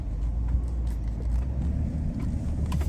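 A car rolling along a rural road past heavily wooded land near White River, Arkansas, with a steady low engine and road rumble heard from inside the cabin, no talking.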